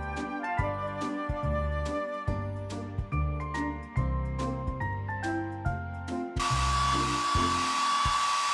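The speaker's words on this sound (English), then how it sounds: "Tap the hair dryer to blow dry the pup's hair." In a Paw Patrol bath-time game, a hair dryer switches on partway through as a steady, loud, hissing whir with a high tone, replacing the cheerful background music.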